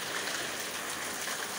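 Steady rain falls on a rainy day as a dense, unbroken hiss with no talk, filling the whole short stretch at an even loudness.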